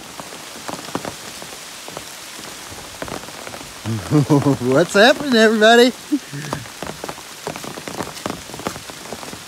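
Rain falls steadily on the Appalachian Trail with a constant hiss and scattered drops tapping close by, while someone briefly speaks a greeting partway through.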